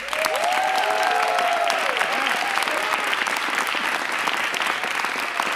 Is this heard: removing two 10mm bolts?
no